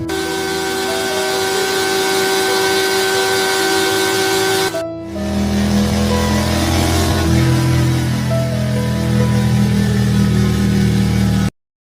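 Cartoon motorbike engine racing during a bike race between a fox and a tiger, with loud, continuous revving tones that cut out briefly near the middle and then resume just as strongly, with no talking.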